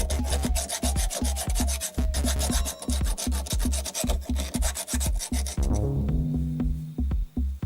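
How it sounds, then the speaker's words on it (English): A wooden blank being sanded by hand with rapid back-and-forth rasping strokes, loud and close, then stopping near the end as a light tapping takes over. "We will sand the resulting blank."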